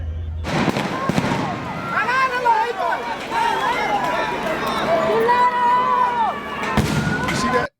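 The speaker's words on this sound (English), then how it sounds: "He tossed a flashbang." A sharp flashbang grenade blast goes off near the start amid civil unrest in Los Angeles, followed by crowd babble, shouting and further bangs, with people talking throughout.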